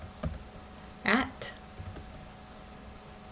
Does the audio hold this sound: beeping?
no